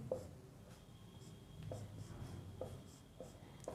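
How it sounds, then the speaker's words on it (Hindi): A pen writes out an organic chemistry isomerism example on paper: faint, close scratchy strokes in short bursts with brief pauses, alone over quiet room hiss. "मैं इस तरीके से लिख लेता हूँ"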